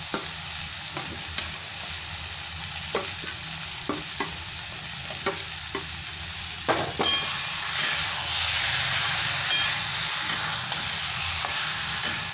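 Potatoes and jackfruit fry together in a pan for a Bengali prawn curry, oil sizzling under a spoon that scrapes and stirs in regular knocks, then a louder, steadier sizzle swells in the second half.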